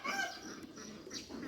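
Geese honk in the morning on a farm, a few short nasal calls overlapping near and loud across a brief moment, with no talk.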